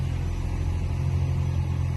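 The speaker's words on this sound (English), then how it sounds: "Just pushing on the accelerator, and then the engine is on." A 2006 Toyota Prius engine idles steadily, a constant low hum with no pauses or revving.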